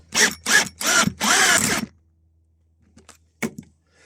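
A power drill whirs in four short, loud bursts, the last one longest, followed by near silence with a couple of faint clicks.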